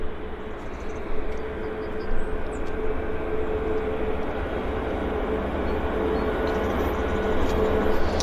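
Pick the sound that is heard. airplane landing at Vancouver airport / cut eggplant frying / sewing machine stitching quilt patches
airplane landing at Vancouver airport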